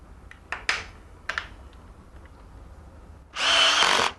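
A power drill drives screws through the sides of a Red Sea MAX S aquarium cabinet during assembly. A few short handling clicks and brief motor blips come first, then one sustained, loud whir near the end.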